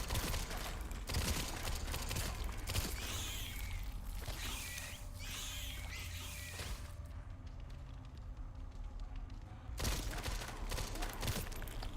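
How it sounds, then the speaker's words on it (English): An SMG fires quick-shot bursts in Resident Evil Requiem, a loud, dense rattle of gunfire running almost continuously, with a short lull before the shooting picks up again near the end. "There's the quick shot I was talking about."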